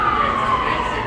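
An emergency vehicle siren wails steadily and close, its tone gliding slowly downward over a rumbling background.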